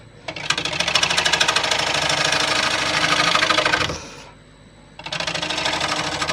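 A lathe gouge cuts into a spinning white oak yarn bowl blank, a loud steady rasping chatter for about four seconds, a brief quieter pause, then the cut resumes just as loudly.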